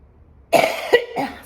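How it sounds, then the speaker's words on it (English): Two or three harsh, close coughs in quick succession after a moment of silence. "Sorry, still got the cough."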